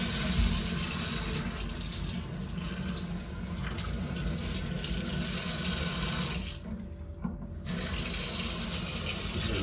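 Tap water pours steadily into a sink being filled for hand-washing laundry, a constant close rushing hiss that briefly cuts out near the end before resuming.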